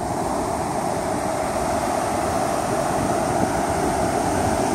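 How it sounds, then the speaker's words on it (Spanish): Ocean surf at Barra de Santiago in El Salvador, near the Guatemalan border, roars steadily and loud as waves come in on the shore, with wind noise and no talking. "Aquí tenemos ya las olas que empiezan a ganar terreno."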